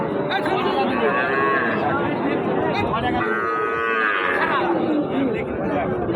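A thin local cow moos loudly and close several times, long drawn-out calls over a busy background of murmuring voices at a cattle market.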